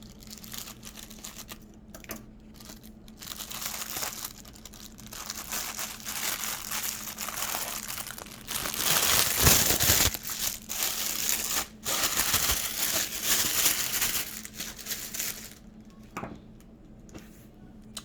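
Plastic package for a beauty product cut open and torn during a haul unboxing, long stretch of close, loud crinkling, crushing and ripping plastic, peaking in the middle, with no talk.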